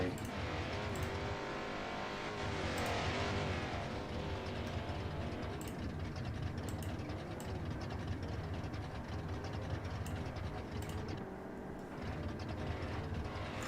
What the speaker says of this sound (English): accommodate this loud engine